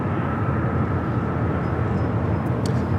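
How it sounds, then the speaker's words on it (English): Boeing Dreamliner airliner arriving from Tokyo Haneda and touching down on the north side of Los Angeles International Airport, a steady broad jet roar with no clear rise or fall, heard from a distance. "Dreamliner from Tokyo Haneda touching down here on the north"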